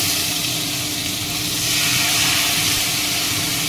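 Spice paste poured into hot oil for a kochur loti dish sizzles loudly and continuously, with a steamy hiss that swells slightly in the second half and no talking.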